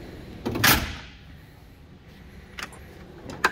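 A drawer on a Snap-on Epiq tool box slides open with a short rolling rush and clunk, followed later by a couple of light metallic clicks, close and fairly quiet.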